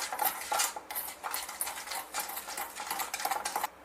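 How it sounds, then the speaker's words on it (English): Cocoa powder chocolate glaze being mixed by hand in a bowl for baked banana oatmeal donuts, a utensil scraping and clinking steadily against the sides in quick repeated strokes, close and fairly loud with no talking. "We add almost half a tablespoon of cocoa powder. Just mix it well with this."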